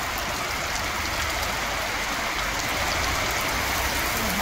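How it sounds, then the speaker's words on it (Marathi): Heavy rain pours steadily in Khamgaon and Nandura during a sudden storm, a dense, unbroken wash of falling water that stays loud and even throughout with no voices. "खामगावसह नांदुऱ्यात देखील जोरदार पाऊस झाला"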